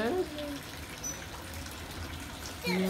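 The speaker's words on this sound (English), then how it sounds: "You can see all the water running." Running water in a neighbourhood Christmas display, a steady splashing rush that carries on throughout, with short bursts of voices at the start and end.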